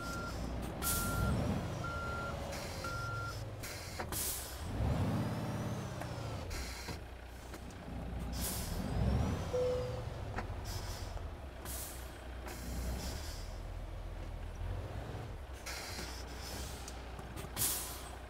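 A truck in Euro Truck Simulator 2 backs into a parking spot on a narrow road, sounding repeated steady reversing beeps over a low diesel rumble, with several sharp air-brake hisses between maneuvers.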